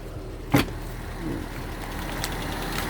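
A small Ford car idles steadily just after starting, a low, even engine hum with a sharp click near the start and faint background noise.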